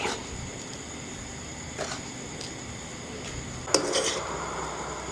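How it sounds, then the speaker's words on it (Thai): A utensil scraping and clinking against a bowl as larb gai ingredients are stirred together: minced chicken, toasted rice, chili flakes, lime, fish sauce, shallots and cilantro. Soft rhythmic stirring with one sharper clank near the end. "คนส่วนผสมทุกอย่างให้เข้ากันนะคะ"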